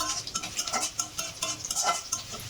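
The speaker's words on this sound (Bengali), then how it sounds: "হালকা ভাজার পর আমি এখন রসুন দিব থেতো করা।" Crushed garlic and dried chilies frying in hot oil for jute leaf stir-fry, with a continuous crackling sizzle and scraping stirs of a utensil against the pan, close up and without talk.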